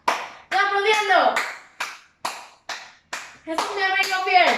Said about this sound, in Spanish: ¿Están aplaudiendo?